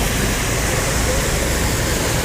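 Floodwater roars steadily through an overflowing roadside drainage on a flooded highway, a loud, continuous broadband rush with no pauses and no voices.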